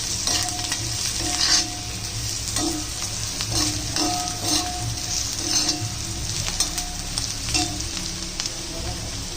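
Onion-garlic masala and turmeric powder frying in a pan, a steady close sizzle with scraping stirring strokes and occasional light clinks of the utensil against the pan throughout, with no talk.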